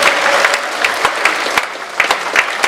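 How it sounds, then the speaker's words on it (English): Jazz workshop participants clap for themselves in a room, a steady patter of hands from a modest group with scattered sharper claps, sustained throughout. "Give yourselves a round of applause for that."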